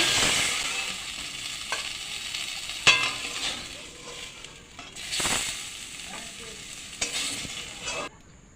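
Rui fish pieces frying in hot oil, a steady close sizzle broken by several sharp spatters and stirring scrapes, fairly quiet overall with no talk.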